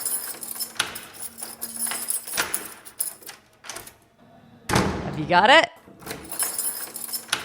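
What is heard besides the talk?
door being unlocked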